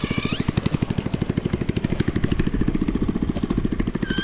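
A hand tractor's motor chugs steadily in a deep, muddy rice paddy, a loud close-up run of rapid regular engine pulses that holds for the whole stretch with no voices.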